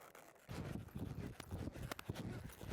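Horses walk at a riding farm, their hooves giving faint, uneven clip-clop thuds on the ground.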